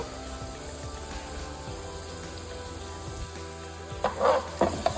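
Onion, green chillies and asafoetida frying in oil in a pan for coconut rice, a faint steady sizzle with a few sharper crackling bursts near the end.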